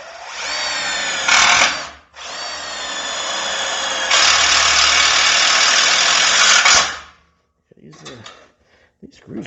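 A power drill drives screws into the rear frame of a 1955 Chevy, whining steadily in long loud runs with a brief pause, then stopping, followed by a few faint clicks and handling noises.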